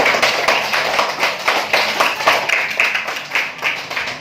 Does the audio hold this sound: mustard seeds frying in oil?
no